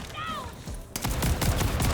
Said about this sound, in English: No, stop with your shotgun.